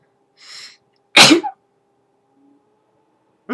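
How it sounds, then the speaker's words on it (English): A single sharp sneeze bursts out close by after a short breathy intake, then a quiet gap and a faint sound at the end. "I have to sneeze."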